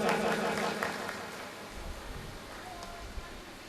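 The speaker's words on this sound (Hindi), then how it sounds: "जोरदार तालियों से स्वागत।" An audience at a Hindu religious discourse gives a donor a welcoming round of applause, a dense patter of clapping that starts strong and gradually fades, with faint talk over it.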